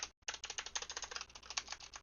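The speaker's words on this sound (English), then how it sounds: "kind of mashing the keyboard" Computer keyboard keys are mashed in rapid, irregular clacking bursts after a brief pause, a close, dense patter of key hits at low volume with no voices.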